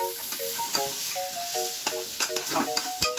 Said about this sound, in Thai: แล้วก็จะผัดไข่ให้มันเข้ากับหมูนะครับ